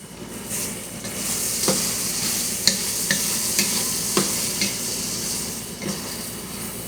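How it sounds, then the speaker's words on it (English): Pork chops in salsa con crema sizzle in a pan as they are stirred, a steady frying hiss broken by several sharp utensil taps against the pan, close and moderately loud. "I am cooking pork chops with salsa con crema"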